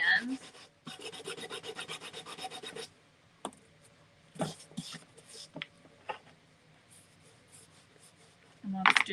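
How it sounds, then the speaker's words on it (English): A plastic Dollar Tree ghost blow mold is sanded in quick rhythmic rubbing strokes, a busy rasping run first, then scattered short scrubs with pauses and faint talk between them. "So I'm just gonna give that spot a sand."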